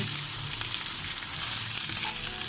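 Shrimp frying in a hot pan for fried rice, giving a steady loud sizzle and crackle of oil with no pauses, close up and with no voices.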